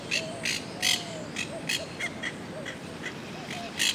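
Wild parrots squawk in Old San Juan, Puerto Rico, a string of harsh, raspy calls repeating every few tenths of a second at moderate distance over soft outdoor background noise.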